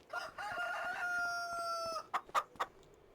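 Chickens on a Farming Simulator 25 farm in snowy February: a drawn-out crowing call fills the first two seconds, then three short, sharp clucks follow close by.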